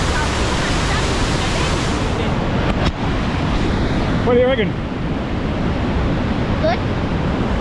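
The Rhine Falls waterfall roars in a loud, dense, unbroken wash of rushing water heard from up close on a rock in the middle of the falls, with a brief spoken question partly buried under it.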